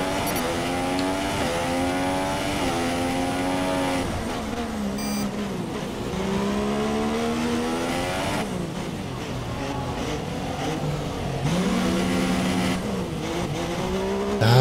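An F1 2016 race car in the video game drives into the pits, its engine whining loudly through rising and falling gear shifts, steady and close, with a faint tire squeal.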